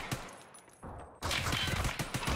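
Gunfire in the video game Escape from Tarkov: Arena: a short, faint volley of shots, a brief pause, then a louder sustained burst of rapid automatic fire that carries to the end.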